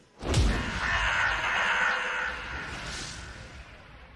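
A crow gives one drawn-out, harsh caw in the fantasy action game Darksiders II. It bursts in loudly after a short pause and fades over several seconds amid a windy, atmospheric game ambience.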